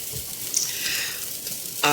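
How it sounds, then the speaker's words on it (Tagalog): Carrot strips and beef sizzle steadily in a hot pan with salt, pepper and soy sauce. The close, continuous frying hiss swells briefly near the end as the food is stirred. "Konting sote-sote natin sa carrots na strips together with the beef, salt and pepper, and soy sauce."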